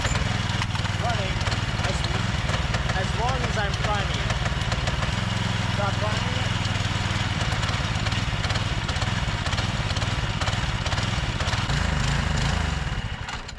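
A small lawn mower engine runs steadily at idle after its carburetor was cleaned, a constant loud putter with a faint mechanical whine on top. Someone talks over it in places, and the engine note dips right at the end.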